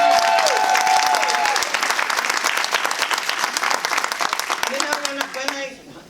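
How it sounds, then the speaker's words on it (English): An audience at an author book event applauds warmly in a dense, steady wave, with a few voices calling out over the clapping before it fades. "don't stop clapping"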